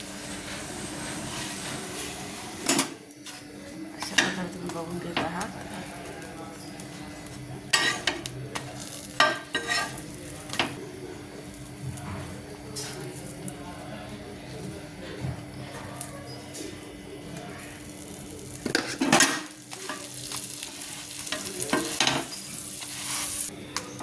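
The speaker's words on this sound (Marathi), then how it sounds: "आपले पाव मस्तपैकी शेकले गेलेले आहेत" Pav bread rolls, split down the middle, toast on a hot pan with a steady low sizzle and scraping, stirring sounds in a home kitchen for pav bhaji, with occasional louder clatters.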